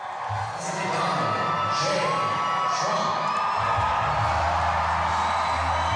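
A large crowd at a Donald Trump rally in Las Vegas cheers and whoops loudly and continuously, shouts rising over a steady roar that fills the space.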